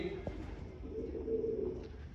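Pigeons coo softly at a pigeon keeper's home, a low, throaty, close murmur drawn out over a quiet background with a brief tap near the start.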